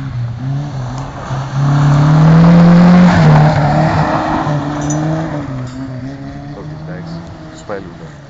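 A Toyota Starlet MK1 drifts sideways through a corner, its engine holding a loud, steady sustained drone that swells to a peak mid-way and then eases, with a brief sharp sound near the end.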